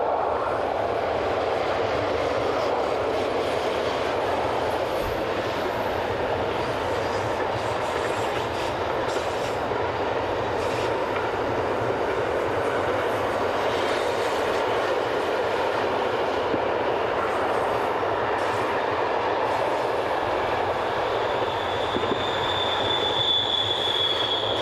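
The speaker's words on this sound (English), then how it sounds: "Here we see 11388 and 11605 coasting down grade with a long intermodal working." Long intermodal freight train hauled by locomotives 11388 and 11605 coasting downgrade, a steady broad rumble of rolling wagons with occasional wheel squeal and a thin high screech building near the end, continuous and fairly close.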